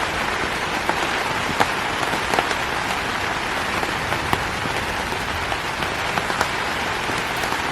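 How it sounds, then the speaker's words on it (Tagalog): Heavy rain falls at night on a campsite, a dense steady hiss close by with scattered sharper drops tapping on a surface throughout, and no voices. "kung maririnig nyo, ang lakas ng tapak ng ulan."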